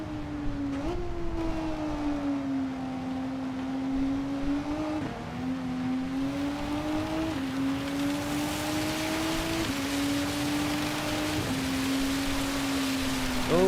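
Rain falls during a race in Gran Turismo 7, a broad steady hiss that grows under the droning, shifting whine of a race car engine as it changes gear, with no talk.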